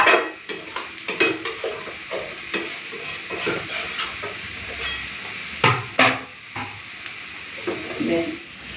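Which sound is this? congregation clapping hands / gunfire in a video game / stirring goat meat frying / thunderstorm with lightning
stirring goat meat frying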